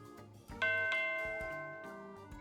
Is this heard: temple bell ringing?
yes